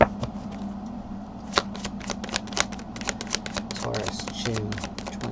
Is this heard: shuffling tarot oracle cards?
yes